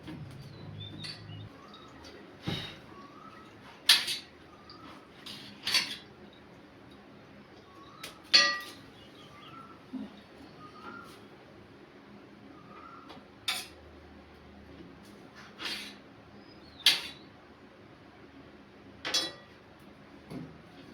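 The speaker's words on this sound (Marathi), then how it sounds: "आणि इकडे टोमॅटो कापून घेते आता." Tomatoes being cut with a knife in a home kitchen, heard as sparse, quiet knocks and clinks of blade on board spaced several seconds apart, with faint bird chirps in the background.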